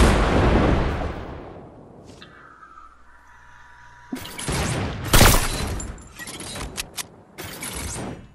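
Rocket explosions in the video game Fortnite: a heavy blast decaying over two seconds, a brief quiet stretch with a mechanical hum, then a string of sharp booms and cracks of varying loudness, close and forceful.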